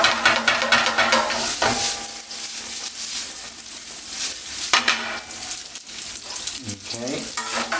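Carbonara being stirred in a pan with the heat just turned off, spoon scraping and clinking steadily against the metal over a soft residual sizzle, close and continuous with no talk.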